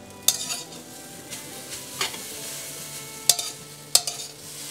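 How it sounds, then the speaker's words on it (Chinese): Yam cake filling being stir-fried in a wok with salt, five-spice powder and sugar: a soft steady sizzle under a few sharp metallic scrapes and clinks of the spatula against the wok, close and moderately loud. "继续翻炒。"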